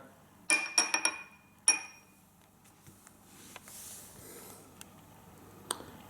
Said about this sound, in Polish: Szklanka z kolą, wyciągamy śrubę